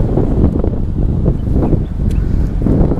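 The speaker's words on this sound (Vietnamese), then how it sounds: "Mà gió biển mát lắm luôn á" Strong sea wind buffets the microphone on a coast near limestone hills, a loud rough rumbling roar in uneven gusts, with no talking.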